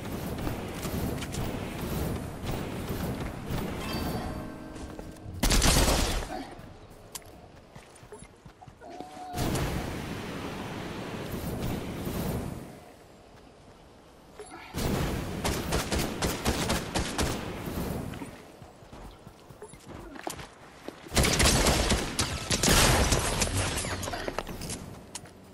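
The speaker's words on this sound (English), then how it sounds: "See, I just kept shooting him. Well, the shotgun I was using sucked." Shotgun blasts and other gunfire ring out in a Fortnite match, coming in several loud, dense bursts separated by quieter stretches of footsteps and ambient game noise.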